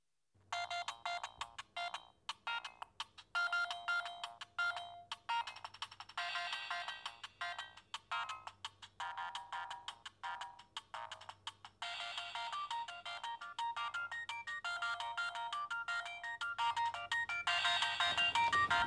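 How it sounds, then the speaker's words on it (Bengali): A mobile phone ringtone repeats its melodic, electronic ringing pattern continuously for nearly twenty seconds in an indoor drama scene, steady and moderately loud with no voices over it. "হয় কলটা রিসিভ করো, না হলে ফোন সেটটা আমাকে দাও।"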